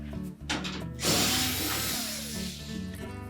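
Screws being driven out of the small gusset straps at the top corners of a Whirlpool washer, a close mechanical whirring and ratcheting from a power tool that rises and holds steady, then tapers off.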